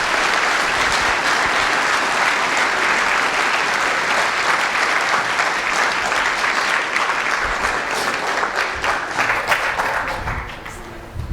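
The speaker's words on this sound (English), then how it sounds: "Can I please have a round of applause for this great team?" A large school assembly audience applauds a team, loud and continuous clapping from many hands that grows more scattered and drops away in the last second.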